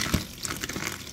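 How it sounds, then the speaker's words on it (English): Tap water runs and splashes over organic tomatoes being washed in a kitchen sink, a continuous close gushing with a brief heavier splash near the start. "we're gonna wash these organic tomatoes with our level 2 vegetable cleaner"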